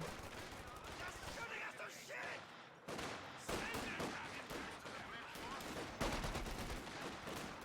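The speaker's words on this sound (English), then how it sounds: "Those Gewehr 43s blazing." Gewehr 43 semi-automatic rifles firing in Company of Heroes 2, a World War II strategy game, with dense overlapping shots and bursts of gunfire under a commentator's ongoing speech during a competitive match.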